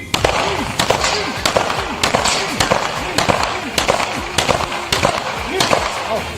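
Pistol shots fired during a handgun lesson at a range, sharp cracks ringing out every half second or so, loud and near, with a voice talking between them.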